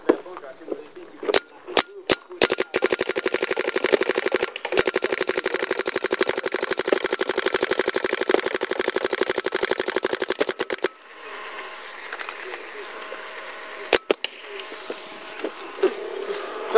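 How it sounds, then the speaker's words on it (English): A DLX Luxe paintball marker fitted with a modded power core (D10 upgrade) fires a few single shots, then sustained rapid-fire strings for several seconds, loud and close, before stopping, with one last shot later. "And let's see how it shoots."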